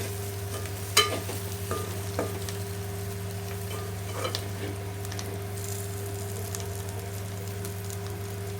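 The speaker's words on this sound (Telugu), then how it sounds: "చికెన్ అంతా ఒకసారి ఇలా బాగా కలిసేటట్టు కలుపుకోవాలి." Chicken pieces fry in a pan with a steady close sizzle while a utensil stirs and scrapes, giving a few sharp clinks near the start over a constant low hum; no one speaks.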